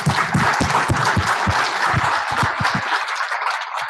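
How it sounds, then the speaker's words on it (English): Applause at a reception fills the whole stretch as a loud, dense wash of clapping, with low knocks and thumps mixed in. It thins out toward the end. "So I'd like to give you all a round of applause."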